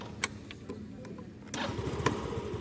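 A 2018 Yamaha Alpha scooter engine starts on the first try. Faint ticking comes first, then the engine catches partway through and settles into a low, steady running rumble.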